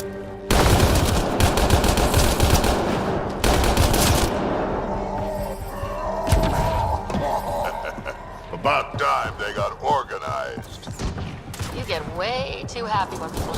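Rapid gunfire in the Mass Effect Andromeda video game, dense automatic bursts loud and close for several seconds, then fading into scattered shots and combat effects while voices talk over it.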